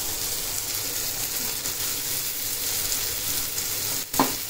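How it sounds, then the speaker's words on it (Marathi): Tomato fries for chicken keema in a pan, giving a steady, close sizzle with a brief stir or scrape near the end, and no talking over it. "टॅमॅटो जरा शिजून घेतो मस्तपैकी"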